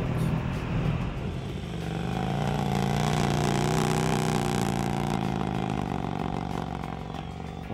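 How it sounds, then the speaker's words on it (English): A vintage Vincent motorcycle engine running with a steady throbbing, mechanical clatter, holding a constant level close by with no talk over it. "You can hear the throb of the engine, you can hear the mechanics, you can hear the bells."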